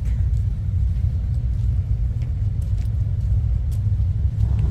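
Steady road traffic in Banff, Alberta rumbles continuously, with car engines droning close by and no talk over the flow.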